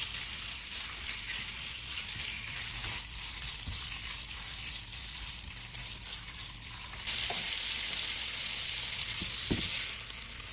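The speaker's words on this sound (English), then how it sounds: "Add the beef. Stir fry for about 1 minute." Beef stir-frying with garlic and chilies in a hot oiled pan, a steady loud sizzle with a few light stirring clinks and scrapes, the hiss swelling brighter partway through.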